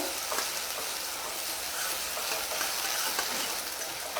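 Steady crackling sizzle of onions frying in a hot pan with split green chilies for chana masala, continuous and close, with faint stirring and no voices.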